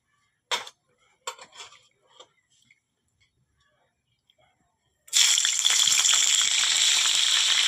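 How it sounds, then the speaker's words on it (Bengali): Cauliflower florets hit hot white oil in a kadai and fry with a sudden, loud, steady sizzle, after a few quiet kitchen clicks and taps. "আগে ফুলকপিগুলো ভেজে নেবে।"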